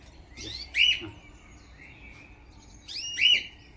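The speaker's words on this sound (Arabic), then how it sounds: "هو طير ضعيف جدا يعني بس صوته حلو خالص" Cockatiels, including a dark yellow one, chirp in two short bright bursts of song separated by a quieter pause, with faint whistling between them and no talk.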